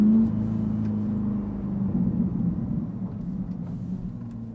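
Engine of a C8 Chevrolet Corvette heard from inside while driving, a steady low rumble and whir that swells slightly and then eases, with road noise and no talking.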